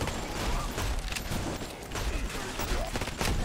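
Turret gunfire in the video game Red Solstice 2, a dense stream of rapid shots with crackling bursts and mechanical clatter, continuous and fairly loud throughout.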